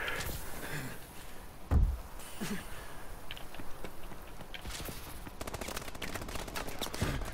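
Rapid gunfire from Call of Duty: Advanced Warfare crackles continuously through a multiplayer match, with a heavier blast near the two-second mark and dense, steady shooting throughout.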